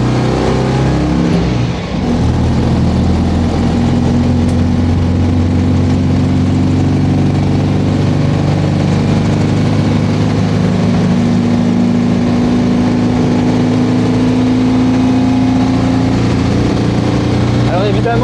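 A 1960s Citroën 2CV van's small engine runs loud and close, idling then revving with a buzzy mechanical drone, while a voice talks over it at times.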